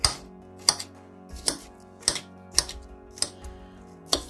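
Knife chopping apples into tiny bite-sized pieces on a cutting board, with sharp evenly spaced knocks about every half second, close and clear.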